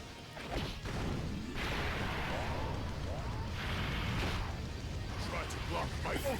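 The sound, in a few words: Nova's active skill attack effects in video game Dokkan Battle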